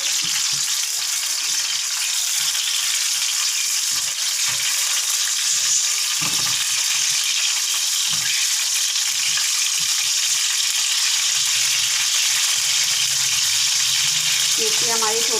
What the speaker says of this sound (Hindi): हमने इसमें मिर्ची डाल दी है। जब मिर्ची हल्की सी सौते हो जाएगी तो फिर हम इसमें बाकी मसाले डालेंगे।